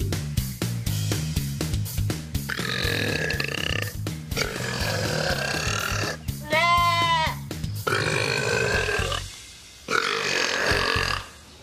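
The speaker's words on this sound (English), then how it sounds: "The loudness of the burp is such that it could cause his own noise-induced hearing loss" A long, loud, drawn-out burp with croaky, bleating tones, followed by several more rumbling belches, close and forceful with only brief pauses.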